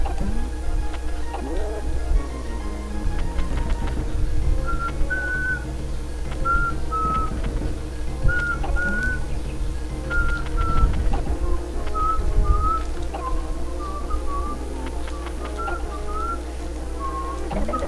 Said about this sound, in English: that's what I get for whistling, I guess